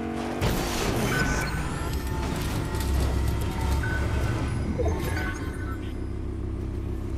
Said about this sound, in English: I, I gotta fix it.